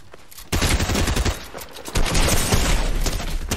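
Gunfire in the Fortnite video game erupts in loud, rapid bursts of automatic shots that continue densely for several seconds, with no talk over it.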